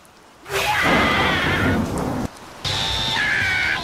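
Rain in a Demon Slayer anime scene, a steady loud hiss of falling rain that continues across the whole stretch with a brief dip partway through, no talking over it.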